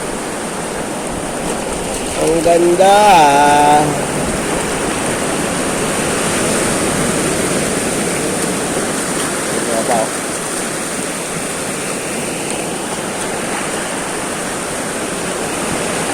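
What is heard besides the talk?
sea waves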